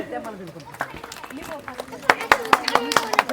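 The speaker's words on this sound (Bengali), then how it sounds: "তো জোরে একটা হাততালি।" Children clapping loudly together at an outdoor village game of pot-breaking football throwing, a burst of quick uneven claps that builds toward the end, with voices and chatter mixed in.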